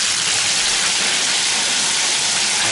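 A shower head sprays water into a clean tub with strong water pressure, a loud, steady rushing hiss close by and uninterrupted for the whole moment.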